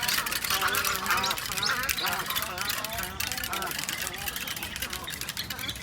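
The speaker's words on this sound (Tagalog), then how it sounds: "Ang ibon, ang ingay-ingay." Noisy ducks quacking repeatedly in a garden reserve, a busy overlapping chorus of bird calls filling the scene with steady outdoor background noise throughout.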